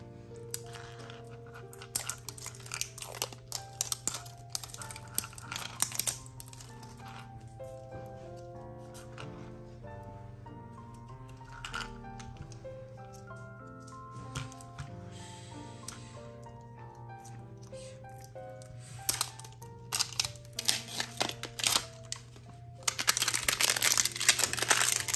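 Plastic packaging of a Mini Brands blind ball toy is unwrapped close up, with repeated crinkling and crunching bursts of varying loudness, busiest near the end, and no one speaking.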